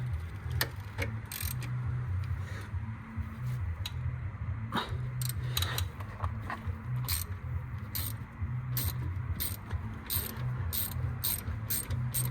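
A hand ratchet undoes a bolt on a Ford Focus Mk2 1.6 TDCi, producing close, rapid clicking in repeated bursts with a faint background hum.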